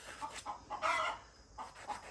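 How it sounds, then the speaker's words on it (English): Chicken clucking in a short run of bursts, moderately close and fairly quiet, with no talking. "Man, that chicken is noisy."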